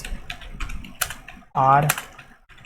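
Rapid clicking keystrokes on a computer keyboard, close and uneven in rhythm, with a short spoken word cutting in midway.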